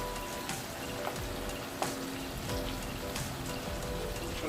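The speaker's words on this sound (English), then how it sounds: "Just trying to saute out these tomatoes and sweet pepper." Tomatoes and sweet pepper sautéing in a pan for Jamaican ackee and salt mackerel, a continuous close crackling sizzle with occasional sharper pops and stirring scrapes, no talk.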